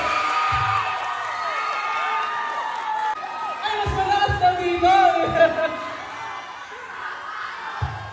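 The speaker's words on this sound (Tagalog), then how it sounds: "grabe yung sigawan dito" A crowd at a barangay event in the Philippines shouts, whoops and cheers in lively bursts, with children's voices and laughter in the mix and people talking close by over the noise.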